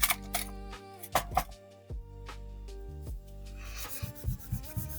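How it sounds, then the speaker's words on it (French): A rubber eraser rubbed back and forth over black marker ink on a paper page, giving close, quick scratchy strokes in short bursts, with faint background noise between them and no speech. "Mais le fait de gommer, ça efface le noir du feutre."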